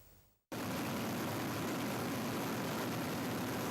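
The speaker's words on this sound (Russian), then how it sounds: "спуски с вертолета в дневное время. С высоты 30 метров спасатели отрабатывают десантирование с борта Ми-8" A Mi-8 helicopter roars with a loud, dense, unbroken drone during a rescuers' descent training exercise from 30 metres. The noise cuts in abruptly after a brief quieter moment and then holds steady and close.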